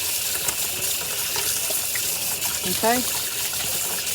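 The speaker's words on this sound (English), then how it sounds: "Let me rinse my hands so I can get some cornmeal and salt" Tap water runs steadily while hands are rinsed, a close, continuous gushing hiss with small splashes, and a brief spoken word cuts in partway through.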